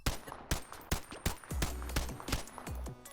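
Staccato XC pistol fired in the Bonelab video game: a string of sharp, punchy shots at uneven intervals, roughly nine reports in three seconds with short decaying tails, no voices.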